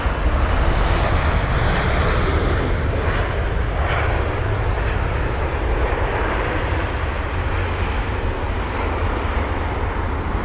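Malaysia Airlines Airbus A350-900 touching down at Heathrow, a loud steady broadband roar of engines and rushing air sustained throughout, with no voices.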